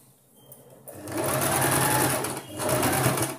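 A sewing machine stitches a boat neck blouse, starting after a quiet moment into a close, steady whirring run with a brief dip before resuming.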